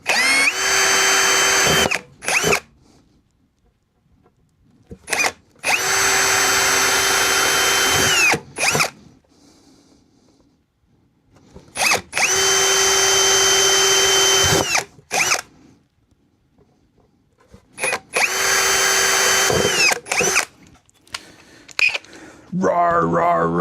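A power drill bores 1/8 inch holes for an amplifier build, whining loud and close in four long bursts separated by quiet pauses.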